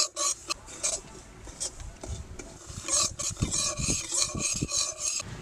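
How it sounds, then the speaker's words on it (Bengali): One bowl of semolina being stirred and lightly roasted in a hot wok for a Poush Sankranti pitha. A spoon scrapes and rasps against the pan in uneven strokes, close by, getting busier toward the end. "আমি 1 বাটি সুজি একটু হালকা করে নেড়ে নেব"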